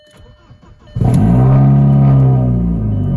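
A VW Passat B5 with a 1.8T engine cranks briefly and catches, firing up and settling into a loud, steady idle close by with no talking.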